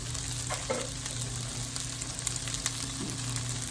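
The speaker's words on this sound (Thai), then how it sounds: "ก็ผัดไข่ ใส่ผักรวม" Egg and mixed vegetables stir-frying in a pan for fried rice, with a continuous close sizzle and occasional scraping stirs and light clacks, no voices.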